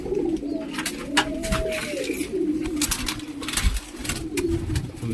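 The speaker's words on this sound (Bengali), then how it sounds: "খুবই সুন্দর সুন্দর কবুতরগুলো রয়েছে" Pigeons kept in pairs with their chicks at a place selling them coo repeatedly in soft, throaty rolls, with faint chirps and rustling around them and no talking.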